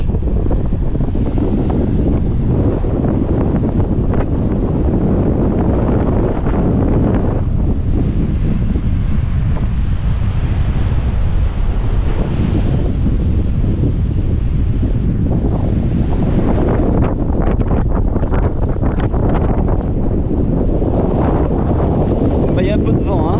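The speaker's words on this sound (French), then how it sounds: "Il y a un peu de vent, hein." Strong wind buffeting the microphone on a Moroccan beach, a loud continuous roar with gusts rising and falling over the whole stretch and faint surf beneath it.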